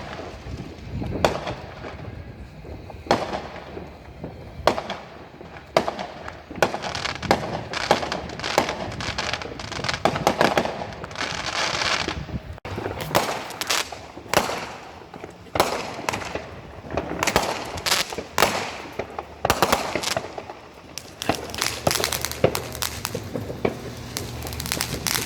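Fireworks going off during a massive wind storm: a dense, continuous run of loud booms, crackles and sharp pops, close by, with wind rumble and occasional faint voices underneath.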